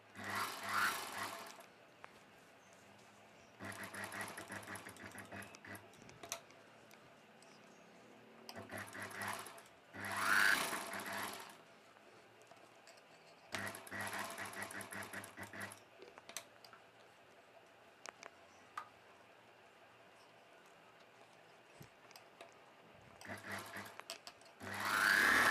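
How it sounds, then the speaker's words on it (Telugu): A sewing machine stitches a buckram piece onto a long dress in several runs of steady, rapid whirring, with quiet pauses between them and soft handling noises. "ఈ బక్రం పీస్ పైవైపున ఒక కుట్టు వేసుకోవాలి"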